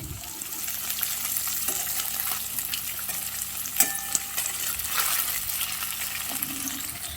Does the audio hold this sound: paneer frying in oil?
yes